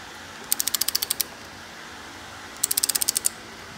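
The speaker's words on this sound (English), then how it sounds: "the torque wrench is just barely going to get in there" Torque wrench ratcheting a socket on the high-pressure oil pump of a 2000 Ford F350: two close, crisp bursts of about eight rapid clicks each, separated by a pause, with no talk.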